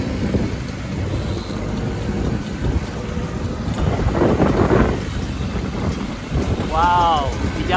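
Wind buffets the microphone in a continuous low rumble while riding along a road in Aceh near a Vespa scooter, with faint traffic sounds mixed in.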